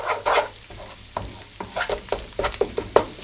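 Egg fried rice being stirred and tossed in a hot pan, a steady sizzle broken by repeated sharp scrapes and clacks of the utensil against the pan, close and fairly loud.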